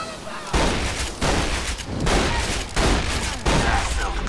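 The Big Bertha cannon firing in Borderlands 2: a series of loud, broadband booming blasts roughly every second, each a thick burst of gunfire-like noise that dominates the scene.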